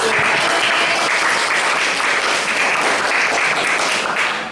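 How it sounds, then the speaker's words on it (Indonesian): Sustained applause from an audience at a teacher's classroom performance assessment, a dense, steady wash of many hands clapping at close range, loud throughout and tapering slightly at the end. "tepuk tangan buat Mas"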